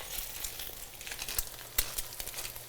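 Eggs frying on a griddle, a soft, steady sizzle with crackling pops scattered throughout, fairly quiet and with no talk.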